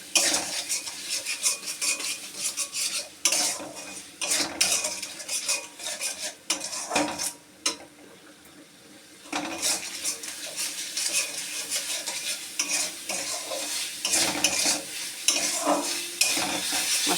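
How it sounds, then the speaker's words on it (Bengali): Spice masala frying in a pan for a cauliflower and egg curry, with a utensil stirring and scraping in repeated clattering strokes over a soft sizzle, pausing briefly midway. "এবার আমি মশলাটাকে কষাতে দেবো।"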